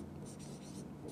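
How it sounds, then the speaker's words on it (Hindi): Marker or chalk scratches out notes on a board in a classroom history lesson, short close scraping strokes in quick bursts over a steady low room hum. "तो देखो यहां पर हम नोट लगा कर लिखते हैं,"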